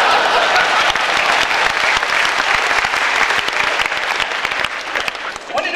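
Thick, vigorous applause from an audience at a magic competition in Eastbourne, many hands clapping at once for several seconds before thinning slightly at the end.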